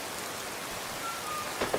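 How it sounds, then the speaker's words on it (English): Steady rain falls in Skyrim Special Edition with the Nolvus V6 mod pack, a soft, even hiss that holds throughout, with a couple of faint taps near the end and no voices. "It's because it's raining."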